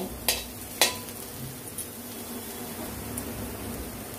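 Bitter gourd pieces pushed aside in a pan of hot oil while frying, a soft steady sizzle with a couple of sharp scrapes of the spatula near the start.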